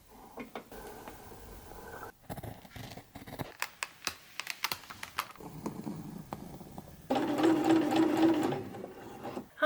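A sewing machine in a home sewing room runs in a steady, close, whirring burst near the end, after a scattering of sharp mechanical clicks and taps.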